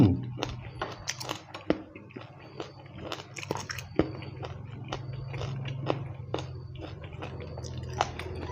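Boiled beef feet dipped in jaew are chewed close to the mic, a quick run of crisp crunches and wet bites repeating irregularly over a low background hum, with no talking.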